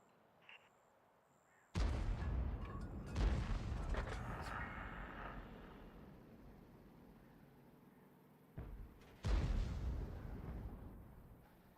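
Tank cannon in a video game firing armor-piercing rounds: two heavy booming blasts with long rumbling decays, separated by several seconds, over faint background sound.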